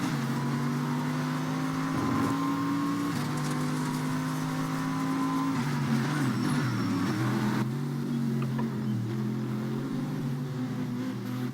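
Race cars in an IFAS GT HypoWorld Championship racing video game at Calgary roar continuously, several engines droning and shifting pitch together as they battle for the lead, with no talking.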